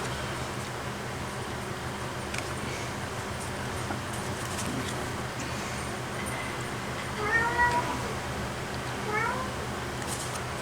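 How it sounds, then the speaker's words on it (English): A cat gives two short meows late on, fairly close, over a low steady background hum. "if you hear him meowing, that's the cat who's decided that they want to talk for some reason"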